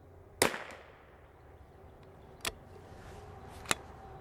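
Three sharp rifle reports from a Savage B22 rimfire firing CCI standard velocity rounds, spaced unevenly about a second or two apart, each a crisp crack with a short decay against a quiet outdoor background.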